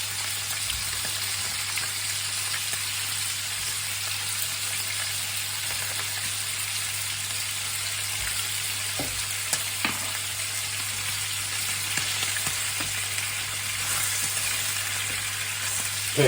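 Marbled sirloin steak frying in melted butter in a hot pan, an even, close sizzle with a continuous hiss and occasional soft pops and clicks, no talking.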